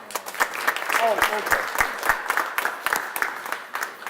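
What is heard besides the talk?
applause for a senator arriving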